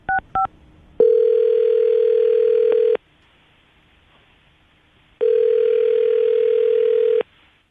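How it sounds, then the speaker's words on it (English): A telephone dial tone with a couple of short dialing beeps at the start, then two long steady ringback tones separated by a quiet gap, clear and close. "I'm going to dial the phone number right now and see exactly why she's not getting back to you"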